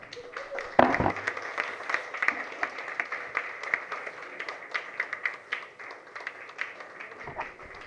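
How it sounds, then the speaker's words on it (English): A seated audience applauds a speaker after a talk on rebuilding the judiciary after the COVID outbreak. Scattered, fairly faint claps ripple through with a sharper knock near the start, and a voice murmurs briefly underneath. "another round of applause"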